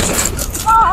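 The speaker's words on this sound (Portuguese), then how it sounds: "tu disse que não tava disparando, John Rambo" A gunshot from a firearm believed to be jammed, one loud sharp burst dominating the moment, followed by a high ringing tone; voices are present around it.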